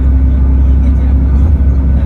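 A car cruises along the highway from Makkah to Madinah. Its dense, even road and engine rumble fills the cabin without pause, and nobody speaks.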